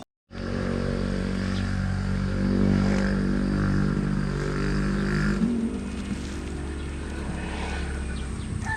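A motorcycle engine roars steadily and rises in pitch as it speeds up, loud and close, then drops to a rougher idle-like rumble.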